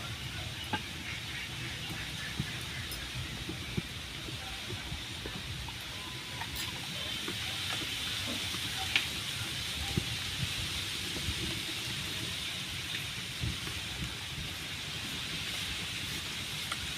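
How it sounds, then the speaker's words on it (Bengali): Oil heating in a karai (wok) before frying fish gives a steady, faint hiss throughout, with a few tiny ticks and pops and no voices. "কড়ার মধ্যে তেল দিয়ে দেবো মাছ ভাজার জন্য।"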